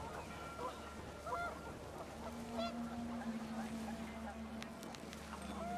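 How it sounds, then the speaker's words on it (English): Panicked geese honk in the video game What Remains of Edith Finch, a few calls rising over a steady windy bed with a narrator's voice, brief and mid-distance. "The wind picked up, and panicked geese appeared and quickly went."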